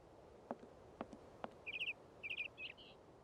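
Several short, bright chirps from a small bird in the Syberia adventure game, coming in two quick bursts followed by a softer twitter. They are preceded by a few faint ticks against a quiet ambient background, with no talking.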